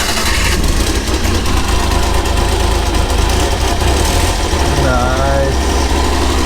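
Small Honda Acty kei van engine running at a steady idle, a continuous low mechanical hum with light vibration throughout, fairly close and loud, with a brief whistling tone near the end.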